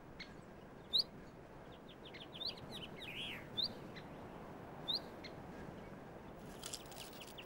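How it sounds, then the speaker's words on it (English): A blue chaffinch calls in a Canarian pine forest, with several short, bright chirps spaced a second or more apart over a soft, even forest hiss. "the blue chaffinch"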